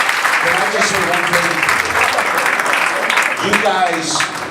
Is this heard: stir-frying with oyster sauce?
no